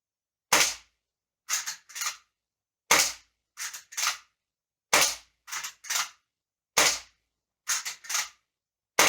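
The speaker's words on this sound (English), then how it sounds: "let's give the Walther Lever Action a go" A Walther Lever Action airgun fires eight sharp, loud cracks in a rhythm of single shots and quick pairs, each followed by near silence.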